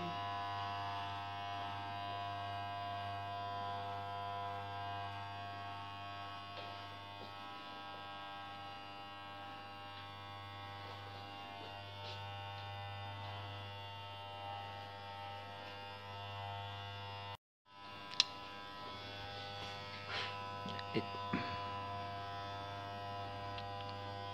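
Electric hair clippers shaving a head for a charity head shave, giving a steady, close buzzing hum that runs almost continuously with one brief cut-out, then a few light knocks and scrapes.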